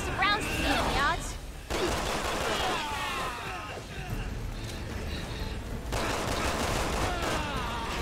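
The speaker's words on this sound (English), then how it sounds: "I have some explosive rounds to beat the odds." Explosive rounds fired in Resident Evil 6, with rapid sharp blasts and crackling bursts in loud clusters, a brief gap, then another volley, with a voice talking over parts of it.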